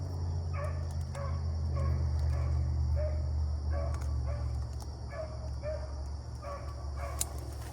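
Several distant dogs bark in short, scattered bursts over a steady low hum of outdoor background noise.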